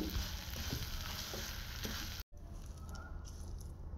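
Raw mango sizzles and crackles steadily in hot oil in a pan over low flame, cutting out for a moment before the frying resumes more softly.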